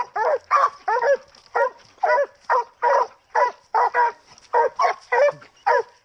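Coon hunting dogs bark outdoors at night, a fast, steady run of loud, close bawling barks overlapping one another for several seconds.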